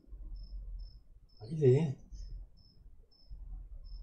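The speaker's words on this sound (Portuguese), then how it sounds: "Tem um grilo mesmo aqui." A cricket chirps steadily close by in a quiet indoor room at night, short evenly spaced pulses running throughout, while a person speaks briefly over it.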